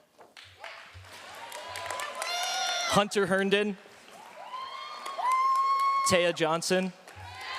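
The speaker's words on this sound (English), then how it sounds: "wait until I read the name and then you can give them a round of applause" School awards-ceremony audience at Heritage Academy Mesa applauds and cheers for award recipients, a broad wash of clapping with occasional whoops rising after each name is read aloud over a microphone.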